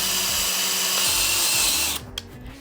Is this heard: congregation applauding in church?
no